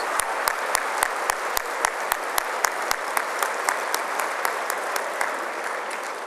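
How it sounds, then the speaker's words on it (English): An audience at the Ontario PC annual leader's dinner in Toronto's convention centre applauds steadily, a dense, sustained wash of clapping filling the hall, with a regular series of sharp ticks running through it. "give them a round of applause"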